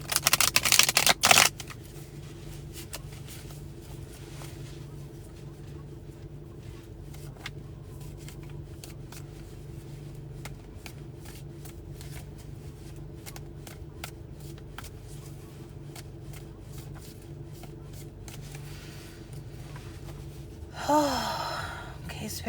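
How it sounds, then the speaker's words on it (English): Tarot cards are shuffled in hand with a rapid, fine riffling and flicking that continues close and steady throughout, a brief loud burst at the start and a voice sighing near the end. "I'm going to draw some cards for the collective"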